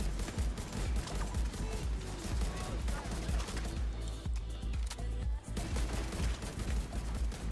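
Enemy gunfire in The Division 2, dense rapid bursts of shots and booms rattling almost nonstop, loud and close, with a brief lull midway, while a player talks over it.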